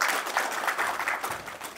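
Brief burst of steady clapping from a seated audience at a Korean community association leadership inauguration ceremony in a cultural center hall, moderately close and without voices.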